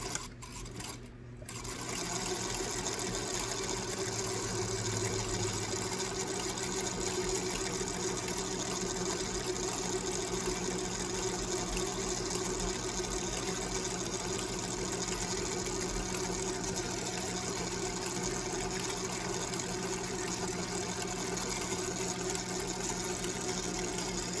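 Sewing machine running continuously while stitching along the curve of an off-the-shoulder lavender dress, an even motor whir with a steady stitching rhythm after a brief stop at the start.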